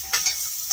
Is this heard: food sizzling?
yes